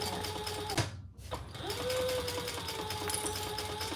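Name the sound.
sewing machine top stitching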